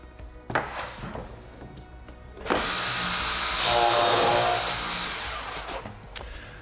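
A power drill bores dowel holes into the back of a cabinet panel, with a short burst followed by a long, steady whirring run of several seconds, loud and close.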